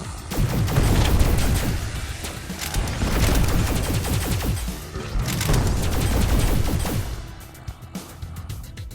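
Explosive guns fire in the mobile game Idle Zombie Waves, a dense, loud barrage of overlapping booms and crashes in continuous waves that briefly thin out near the end.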